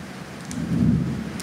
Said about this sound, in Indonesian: Waduh, hujan nih, maaf berisik.